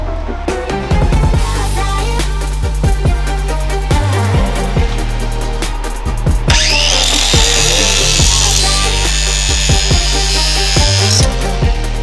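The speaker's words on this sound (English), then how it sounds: "Let's finish bolting it down." Bolts being tightened to mount a car shifter, with a loud close ratcheting that clicks in quick repeated bursts, and a whirring power-tool run in the middle of the stretch.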